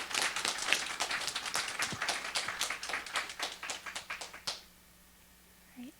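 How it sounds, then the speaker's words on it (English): A small audience gives a round of applause for student panelists at a university diversity forum: distinct scattered hand claps for about four and a half seconds, then stopping abruptly into quiet room tone. "let's offer a round of applause to our panelists"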